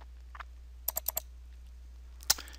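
Mouse clicks from a computer setup, a quick double click around the 3D view, heard as a couple of close, sharp ticks over a quiet background hum with other faint isolated clicks.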